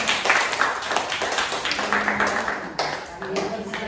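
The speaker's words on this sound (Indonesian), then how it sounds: "Tepuk tangan kita semua." A school class claps together in a classroom lesson, a quick patter of many hands under a teacher's voice, fading slightly toward the end.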